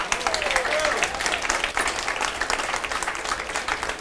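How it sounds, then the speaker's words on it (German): Warm audience applause at a cooking event with regional top chefs in Zofingen, a dense, continuous round of clapping from a crowd that carries evenly throughout. "Noch einen herzlichen Applaus"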